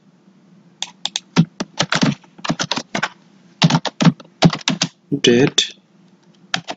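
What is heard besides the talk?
typing a date on a computer keyboard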